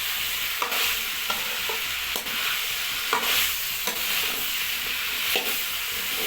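Potatoes stir-fry with vegetables for a carrot dish, a steady close sizzle broken by regular spatula scrapes roughly every second.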